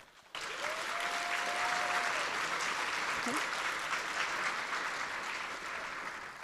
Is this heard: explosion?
no